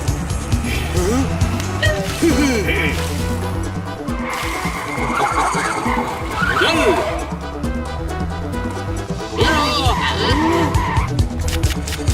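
Tires skid and squeal in a cartoon scooter race, with whooshing, screeching effects and engine noise layered under lively background music and voices.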